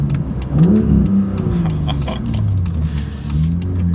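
A 2018 BMW M2 with M Performance parts accelerates hard in first gear through a tunnel, its engine note loud and close, climbing steadily in pitch over a continuous roar.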